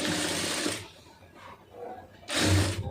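An electric sewing machine stitching the lining of a blouse runs in two short loud bursts of fast whirring needle action, close by, separated by a brief pause with faint handling sounds.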